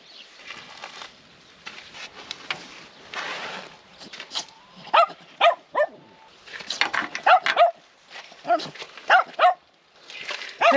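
Dizzee the dog barks repeatedly in short, sharp bursts with pauses between them, fairly close, inside or beside a van on a first night of solo van life.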